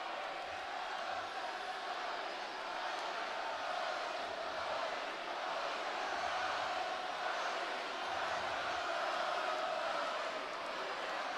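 A large wrestling arena crowd at WWE Raw reacts to Cody Rhodes as a steady, dense roar of mixed cheering and shouting that holds at an even level throughout.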